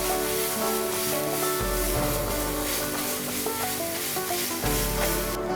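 Masala sizzles steadily as it is sautéed in a pan over a medium-low flame for a stuffed pomfret fry, a continuous close hiss under a low background hum, with no voices.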